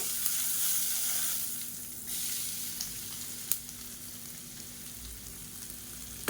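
Coconut-coriander paste fries in a spiced onion masala with a continuous close sizzle. A few sharp clinks of a spoon stirring against the pan punctuate it.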